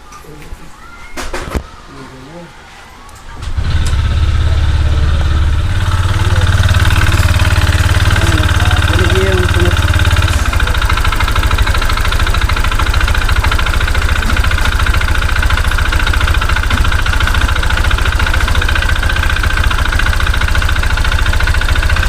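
A Honda Click scooter with a rattling engine fault starts up after a few seconds of handling sounds, then idles close and loud with a steady low rumble, under brief talk.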